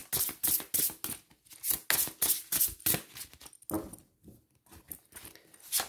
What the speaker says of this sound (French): je vais prendre l'oracle de Gaïa pour poursuivre ce tirage.